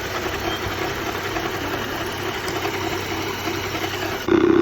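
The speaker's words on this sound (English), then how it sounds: "Now you can hear it. For sure, this is the tensioner pulley." Running BMW X5 E70 engine with a noisy drive-belt tensioner pulley, a steady loud mechanical whir and hum heard up close, with a brief louder shift near the end.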